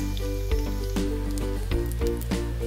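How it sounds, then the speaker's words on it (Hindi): Chicken potato cutlets shallow frying in hot oil in a pan on medium heat, giving a steady close sizzle with soft bubbling and occasional crackles, and nobody speaking. "हम मीडियम आंच पे फ्राई करेंगे।"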